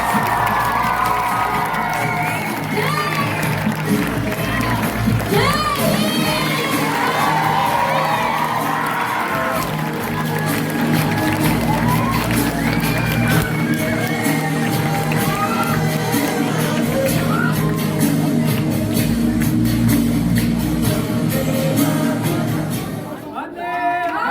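A large school crowd at a grade 6 to 11 Independence Day celebration keeps clapping, cheering and shouting for performers, a sustained loud roar with children's whoops rising above it until it fades at the end.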